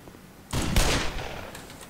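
Gunfire in the video game Black Mesa, a sudden loud burst of rapid shots that holds for about a second and then trails off into rumbling echo.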